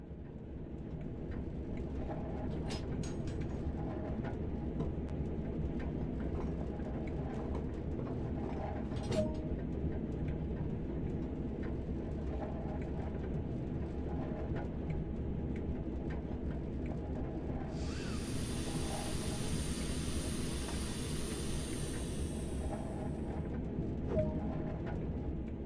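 A BR Class 08 shunting locomotive in the Train Sim World game releases its brakes: a loud, bright burst of air hiss lasts a few seconds over a steady idling engine rumble, with no talk.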